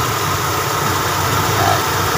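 Engine of a stored vehicle being conditioned, idling steadily at about 1,000 RPM with a loud, even drone and no pauses or voices.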